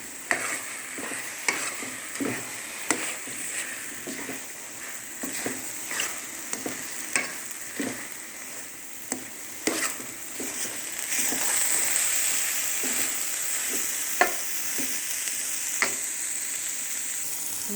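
Panjiri is roasted in desi ghee while a spoon stirs it steadily, giving a soft, continuous sizzle broken by rhythmic scraping strokes against the pan, fairly quiet and close, with no one talking.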